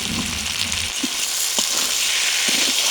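Potatoes, beans and tomatoes fry in a pan with dried chili and salt, giving a loud, continuous hiss of sizzling oil broken by a few soft stirring knocks, close and with no voice.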